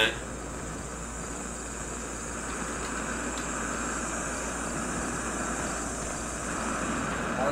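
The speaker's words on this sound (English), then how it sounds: "I'm starting to hear white noise" Steady white noise static from the horror video game Slender, heard in a cemetery setting: a faint, continuous hiss with a low background hum that holds evenly throughout, with no voices over it.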